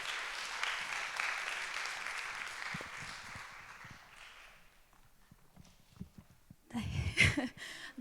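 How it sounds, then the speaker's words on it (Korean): A church youth worship service congregation gives a warm round of applause, a broad sustained wash that fades out over several seconds, followed by louder closer noise near the end. "나올 때 따뜻한 박수로 환영해 주시면 감사하겠습니다"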